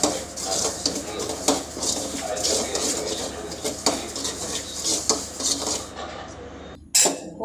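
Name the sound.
roasting semolina in ghee in a pan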